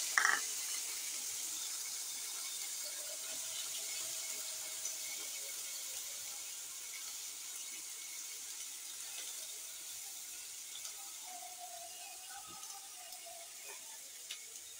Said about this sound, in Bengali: একে এখন পেঁয়াজ কুচি আর রসুন কুচিটা দিয়ে দিচ্ছি।